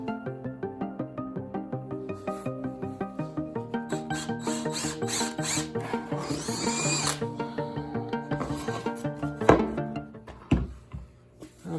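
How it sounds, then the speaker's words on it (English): A power drill bores holes through a new plywood piece for repairing a broken office chair, the motor whirring steadily with a rhythmic pulsing, rising into a harsher grinding burst as the bit cuts through, then winding down. "I need to drill these out"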